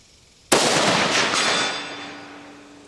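A rifle fires a single close, loud shot with a sharp crack, then a long reverberant tail fading over the next two seconds; no one speaks.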